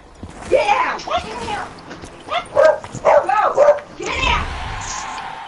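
A dog barks in a rapid series of loud, close yips and woofs, with whimpering in between, while people talk nearby.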